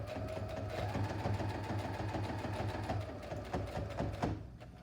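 A home sewing machine stitches a seam with a fast, steady mechanical whir and rapid needle ticking, running close and continuous before easing off near the end.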